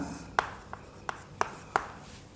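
Pen or chalk writing down given data in a lecture makes five quick, close tapping strokes at a roughly even pace over a low room hum, with no talking.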